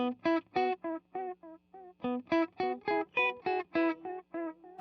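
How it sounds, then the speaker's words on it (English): Distorted electric guitar notes picked in a quick rhythmic pattern, each note ringing with a repeating old-school, tape-style echo tail from a delay pedal. "It has very cool delay sound, definitely the most old school sounding of all of them."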